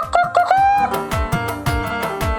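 A chicken clucks and crows close by in a village yard, a loud run of repeated squawking calls and drawn-out crows filling the whole stretch.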